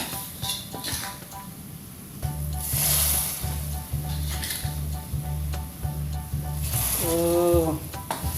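Spice paste for chicken gulai sizzles and crackles steadily in a hot pan while being stirred, with a low rhythmic scraping and a brief bubbling near the end.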